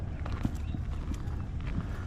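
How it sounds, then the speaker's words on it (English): Horse-drawn buggy hooves clip-clop steadily in a historic town setting, a run of evenly spaced hoof strikes at moderate distance over a broad background hum. "There's a little horse and buggy up underneath the carriage"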